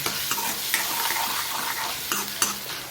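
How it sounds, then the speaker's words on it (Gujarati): A spoon stirs and mixes ingredients in a hot pan, steady sizzling and frying with a few scraping strokes against the metal, close and continuous with no talking. "સરસ બધું મિક્સ કરી લઈએ."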